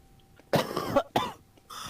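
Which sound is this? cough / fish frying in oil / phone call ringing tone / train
cough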